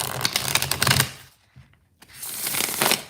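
Playing cards shuffled by hand: two quick riffle bursts of rapid crisp flutters, close and clear, separated by a brief near-silent pause.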